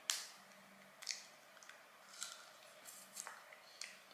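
Scissors snip open a stubborn plastic snack package at home, a few short crisp cuts and rustles spaced out over several seconds, close and fairly quiet with no talking.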